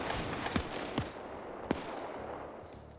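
Distant gunshots echo through an Arma military game battlefield, a few sharp cracks spaced over a low rumbling background, faint and far off.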